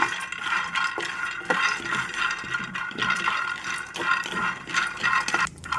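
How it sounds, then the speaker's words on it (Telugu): Peanuts dry-roasting in an oil-free pan on a stove, a steady stream of light rattling and scraping as they are stirred and tossed, close and continuous. "ఇప్పుడు పల్లీలు వేశాను పల్లీలను కూడా చక్కగా దోరగా వేయించుకోవాలి"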